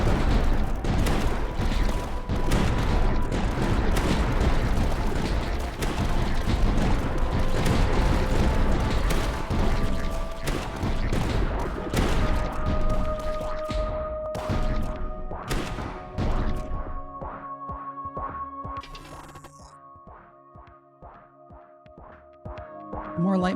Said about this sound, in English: More light mortars.